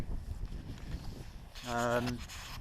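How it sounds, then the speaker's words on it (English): Gusty wind, with gusts around 50 miles an hour, roars and buffets the microphone in a low, continuous rumble outdoors in the Lake District near Blencathra, with a voice briefly speaking near the end. "it's very, very windy today"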